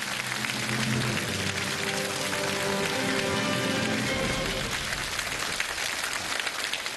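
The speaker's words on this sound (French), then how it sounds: "Applaudissements, s'il vous plaît," A conference audience gives a speaker a dense, sustained wash of applause, steady and full like heavy rain, with faint tonal music underneath during the first few seconds.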